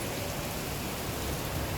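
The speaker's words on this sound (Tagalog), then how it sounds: "Thunderstorm." Heavy rain pours during a pre-dawn thunderstorm in Dubai, a dense, steady hiss of downpour filling the whole short stretch with no pauses.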